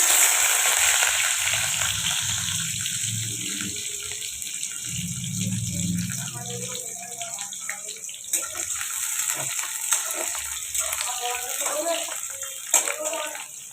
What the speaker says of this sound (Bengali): দেখো সর্ষের তেল দিয়ে দিয়েছি, এরপর তেলটা গরম হয়ে গেলে পেঁয়াজ কুচিটাকে দিয়ে দেবো।